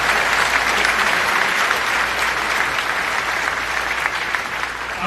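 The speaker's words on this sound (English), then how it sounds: "How about one big round of applause to thank their sponsors and welcome their sponsors." A large audience at a Detroit Economic Club luncheon at the MotorCity Casino Hotel gives a big round of applause, dense and sustained clapping that stays loud and even throughout, with no voices over it.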